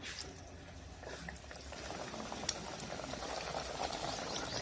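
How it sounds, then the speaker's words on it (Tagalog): Battered spare ribs dropped into a pan of hot oil, sizzling steadily with a dense, bubbling crackle that holds at an even level and builds slightly, one brief sharp pop near the middle, no voices. "drop each piece in a pan of hot oil, making sure not to overcrowd the pan"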